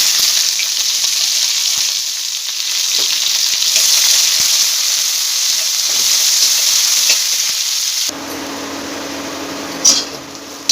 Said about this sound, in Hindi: एबे मु पियाज पकई दउची